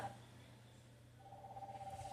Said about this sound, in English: I don't know if the ringing is coming through.